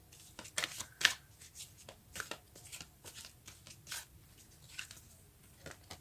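Cards from an oracle deck shuffled by hand in a quiet room, a run of soft, irregular riffling and slapping bursts close up with brief pauses between them.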